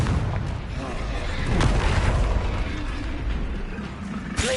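A Confringo blasting spell explodes in Hogwarts Legacy combat, a loud, dense booming roar that swells and holds steady for several seconds, with a sharp crack near the end.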